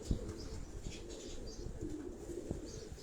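Pigeons on a Karachi rooftop loft, soft continuous cooing and chirping with occasional brief wing flaps, moderately distant over steady low background noise.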